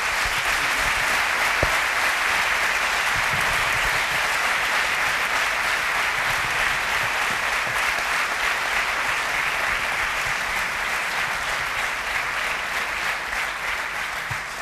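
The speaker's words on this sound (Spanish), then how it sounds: "espero un gran aplauso para todas las personas que aquí nos acompañan" Sustained applause from an audience at a Spanish-language conference on the real estate sector, dense steady clapping that carries evenly for the whole stretch and eases slightly near the end.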